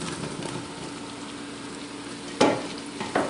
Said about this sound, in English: now that they're finished, all we're going to do is add in our sausage